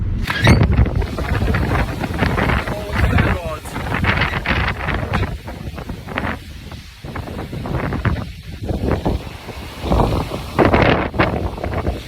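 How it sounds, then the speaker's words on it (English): Strong hurricane wind roaring and buffeting loudly against the microphone in continuous gusts, with a person talking over it throughout. "This wind was insane, like so powerful."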